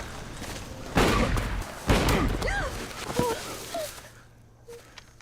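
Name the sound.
gunshots in a film scene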